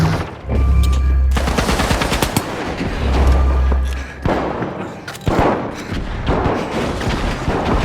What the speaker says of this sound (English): Throwing two grenades! Frag out.